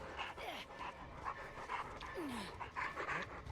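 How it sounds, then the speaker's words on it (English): Dog panting from Dead by Daylight, a rapid breathy rhythm repeating steadily at moderate loudness over game ambience, with a few short whining yelps sliding through it. "if the killer has to deal with this like this dog's sound effect all the time"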